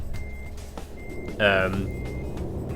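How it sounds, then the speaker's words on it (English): Reversing beeps from a Volvo FMX 2014 tipper truck in Euro Truck Simulator 2 repeat in an even rhythm, partly masked by someone talking over them, with a short hissing air burst midway. "You can back up to it like this."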